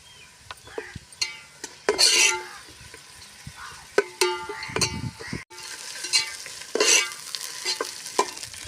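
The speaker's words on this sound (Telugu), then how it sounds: "పచ్చికొంప రాకుండా ఇలా వేపుకోవాలి" Biryani masala with fresh coriander is stir-fried in a pan. A spatula scrapes and clatters in repeated bursts over a low, constant sizzle.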